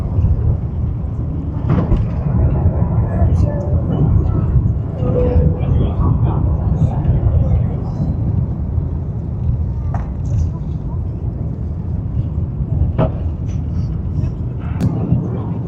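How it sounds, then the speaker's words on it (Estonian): An airliner taking off, heard from a camera mounted on its tail, a loud, steady low roar of engines and rushing air that holds throughout, with faint voices talking underneath. "See kaamera tundub, et on lennuki sabasse pandud ja nüüd tõuseb ka."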